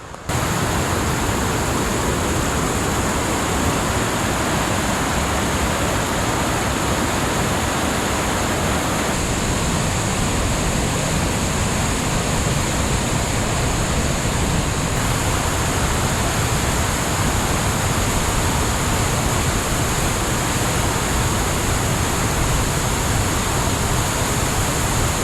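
Spring runoff water rushing down a rocky, creek-like hiking trail toward Woodland Lake, a steady loud broadband roar and splash that continues unbroken throughout with no talking.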